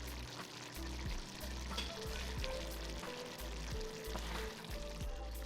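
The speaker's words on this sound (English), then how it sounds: "Let it simmer for 10 to 15 minutes until the potatoes and carrots are soft." Filipino giniling, ground meat with potatoes, carrots and quail eggs, simmers in a pan over medium-low heat, giving a close, steady sizzle and bubbling with faint periodic ticks and no voices.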